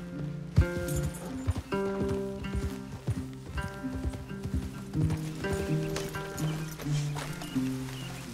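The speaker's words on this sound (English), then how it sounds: "Leave the horses in the trees there." Horses' hooves clip-clop steadily on the ground in Red Dead Redemption 2, an irregular close walking rhythm with faint creaks and possible snorts, heard without talk.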